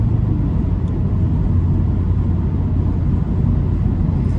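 An Alfa Romeo Giulia accelerates hard, a loud, dense low engine rumble with road and wind roar, steady throughout with no talk.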